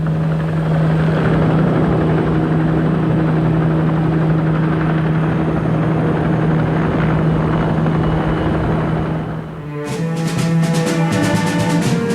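A Soviet military transport helicopter able to carry heavy loads, its rotor and turbine roar steady and loud throughout, with a strong low hum, a slight dip and then a pulsing rotor chop toward the end.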